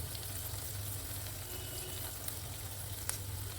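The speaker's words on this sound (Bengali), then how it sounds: "এরকম হালকা করে হালকা ব্রাউনিশ করে ভেজে দিতে হবে বোথ সাইড।" Papaya kofta balls fry in oil over a medium flame, browning lightly on both sides, with a steady, soft, close sizzle and crackle that never breaks.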